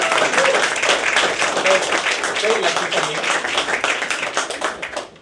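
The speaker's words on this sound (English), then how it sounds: "Thank you so much for giving them a clap." A comedy club audience applauds the comedian's parents, dense steady clapping filling the room, with a voice speaking briefly over it as it fades at the end.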